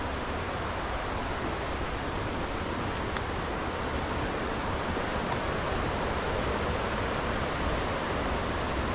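Creek water rushes in a steady, full wash of noise beside a slick, muddy trail at Hickory Run State Park, constant and fairly close throughout with no talking.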